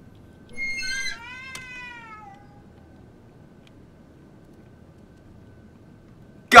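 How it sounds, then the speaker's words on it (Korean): A black cat in the Ju-on: The Grudge video game gives one clear, drawn-out meow that falls in pitch and fades, followed by quiet and then a sudden loud burst at the very end. "귀여운 나의 친구는 검은 고양이"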